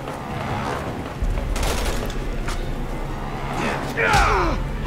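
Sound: gunfire from the video game Resident Evil 6

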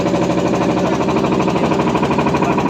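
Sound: boat engine running

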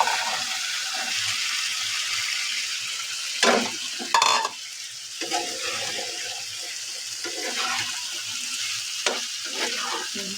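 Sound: potatoes frying and stirred for samosa filling

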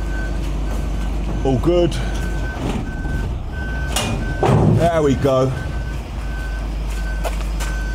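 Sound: lorry reversing beeps while loading a container bin

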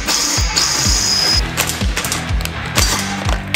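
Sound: power drill drilling a hole for copper pipe

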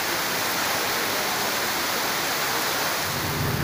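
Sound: heavy rain

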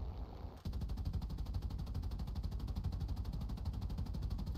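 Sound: strafing gunfire from a ship, video game War Thunder

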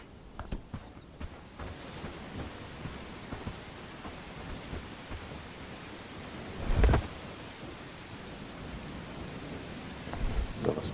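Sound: rain in a video game

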